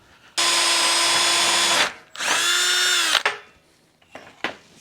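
A power drill whines at high speed in two long bursts, pitch sagging as it bites into a metal bracket held in a vise, followed by a few clanks and handling sounds.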